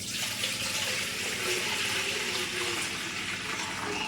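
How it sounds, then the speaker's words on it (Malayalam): Water poured into a pot while making a homemade chocolate cake, a steady close rushing stream that runs unbroken from start to finish with no talk. "അപ്പം നമുക്ക് ഇതിലോട്ട് വെള്ളം ആഡ് ചെയ്ത് കൊടുക്കാം"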